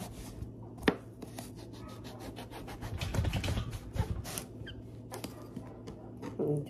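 Bottle gourd is cut with a knife, giving a series of soft close chops and scraping strokes at an irregular rhythm. A louder knock comes early and a denser cluster of cuts follows in the middle, with no talking.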